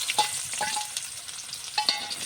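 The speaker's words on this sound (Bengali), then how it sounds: "মাছ ভাজার তেলে পেঁয়াজ দিয়ে দিলাম।" Onions sizzling in oil left over from frying koi fish, a close, steady crackling hiss with a few brighter pops and spatters scattered through, no talking.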